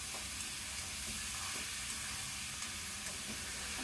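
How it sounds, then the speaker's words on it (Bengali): Boiled chickpeas stirred into a frying spice masala, giving a faint, steady, hissing sizzle throughout with soft, indistinct stirring movements underneath. "সিদ্ধ করে রাখা ছোলাগুলো দেওয়া হয়ে গেলে ভালোভাবে নেড়ে চেড়ে নিব।"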